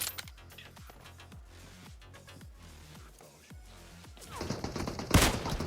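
Rapid bursts of gunfire from the battle royale game PUBG Mobile, a string of sharp shots with decaying tails, followed by a louder, denser stretch and one very loud crack near the end.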